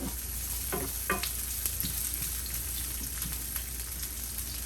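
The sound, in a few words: turkey sausage with peppers and onions sizzling, stirred in pan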